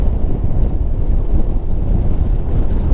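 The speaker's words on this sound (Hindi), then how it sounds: "यहाँ पे बहुत ही ज़्यादा हवा चलती है, बहुत ही ज़्यादा।" Strong wind buffets a helmet-mounted motorcycle microphone on a high, cold off-road stretch of the Ladakh route between Sarchu and Pang, a loud, continuous low roar with no pauses.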